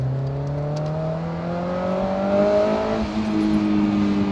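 Honda S2000 fitted with an HKS Hi Power exhaust revving steadily, its engine note climbing and holding loud and close, with no talk over it.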